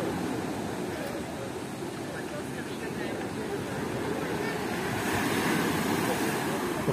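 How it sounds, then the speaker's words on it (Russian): Sea waves wash onto a beach at Sochi in a steady, loud broadband roar of surf that swells slightly toward the end, with wind noise on the microphone and no talk. "Сегодня волны."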